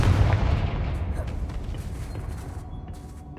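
A Confringo spell blast goes off in the video game Hogwarts Legacy, a single heavy, booming explosion with a rumbling decay that trails away over a few seconds.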